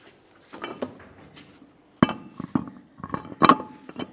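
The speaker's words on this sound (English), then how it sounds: "We'll remove the lug nut, and now we can install our wheel." A lug nut coming off and a wheel being mounted on a 2002-2009 Chevrolet Trailblazer, heard as several sharp close metallic clanks and knocks spread over a few seconds, with no speech.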